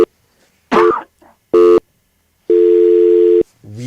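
Telephone busy tone on a radio call-in line after a caller drops: loud, steady, evenly pitched beeps in separate bursts, the last one longer, with a short stretch of voice between them.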